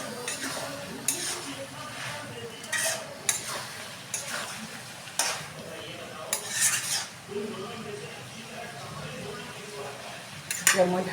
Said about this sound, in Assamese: আলু দি কিনে মই আৰু ভাজি ল'ম।